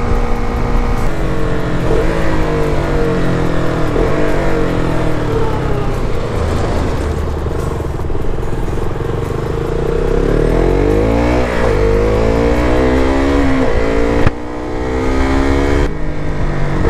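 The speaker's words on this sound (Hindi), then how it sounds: "क्लच दबाओ, गियर डाउन करो, फिर एक हल्का सा ऊपर इसको रेव मार दो, मतलब 6-7000 RPM तक" A KTM Duke 390 motorcycle engine runs loud and close, downshifting with sharp throttle blips that rev it up to roughly 6–7000 RPM, the pitch rising and falling repeatedly over a steady riding drone.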